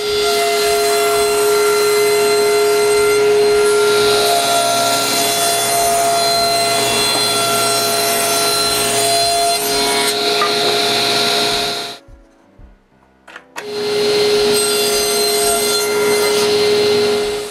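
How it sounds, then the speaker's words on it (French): Power saw cutting mahogany table legs and rails for a bedside table, a steady close whine with rubbing wood noise that stops for about a second and a half near the end, then resumes. "je coupe tous les montants puis tous les traverses"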